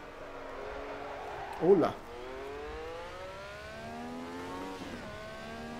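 Ferrari 312T Formula 1 race car engine in Assetto Corsa on the Pikes Peak hill climb, a high-pitched tone rising steadily through the gears with a brief louder burst, while someone talks over it.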